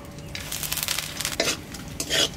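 Bay leaf, garam masala and cumin sizzle in hot oil in a pot for a village fish curry, with short bursts of frying hiss and the scrape and clink of stirring close by.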